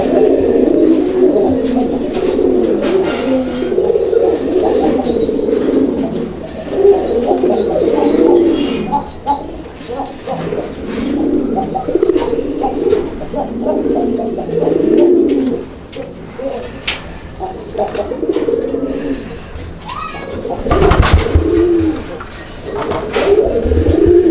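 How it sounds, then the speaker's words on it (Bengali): Raj-golla pigeons coo repeatedly in a steady, throaty rhythm, close and fairly loud, with a brief rustle or knock near the end and little else around. "এই যে দেখেন আমি দেখাই দিচ্ছি আপনাদেরকে কবুতর"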